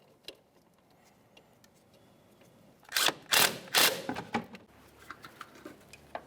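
Mechanic snugging up a front strut mounting bolt on a 2004-2006 Scion xB, a short cluster of close metallic clicks and ratcheting taps after a quiet start, then scattered lighter ticks.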